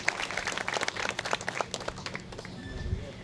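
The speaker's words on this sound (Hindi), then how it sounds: "पहले तो जोरदार तालियां अपने लिए बजाइए।" A crowd at an outdoor afternoon political corner meeting applauds, with dense, uneven claps from many hands close by. The clapping thins toward the end, and some voices are faintly heard underneath.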